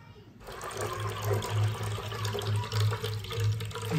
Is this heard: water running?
yes